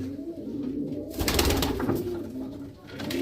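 Homing pigeons coo in a pen as a female is released beside a male: a close, continuous low throaty cooing with a brief burst of wing flutter or rustling partway through.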